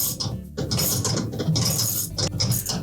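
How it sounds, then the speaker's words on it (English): Quarter-inch drive ratchet with a socket loosening the impeller screw in a Whirlpool dishwasher, rapid close clicking in quick bursts across a few seconds. "with a 1/4-inch socket on a 1/4-inch drive ratchet, we'll loosen that screw"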